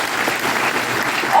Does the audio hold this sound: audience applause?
yes